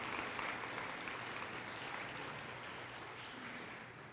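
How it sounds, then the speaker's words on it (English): Sustained audience applause at a fall college convocation and campus blessing, a steady dense wash of clapping from a large crowd that holds for the whole stretch with no talk over it. "Let's give them another round of applause,"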